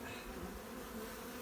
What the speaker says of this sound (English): There's bees all the way across in there.